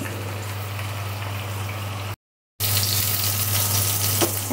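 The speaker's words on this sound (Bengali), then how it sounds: "চুলার আঁচটা বাড়িয়ে দিলাম, এখন এটা ভাজা ভাজা করে ফেলবো।" A sesame and dried fish fritter fries in a pan with a steady, loud sizzle over a low hum, cut by a brief moment of silence before the crackling resumes.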